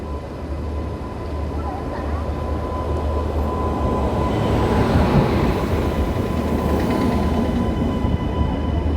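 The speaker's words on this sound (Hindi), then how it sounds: "तो गाइस फाइनली मेरी ट्रेन आ गई है। यह है यशवंतपुर लातूर एक्सप्रेस।" The Yesvantpur–Latur Express pulls into a station platform with a steady, loud rumble of rolling wagons and a sustained low hum that builds slightly midway, with no speech over it.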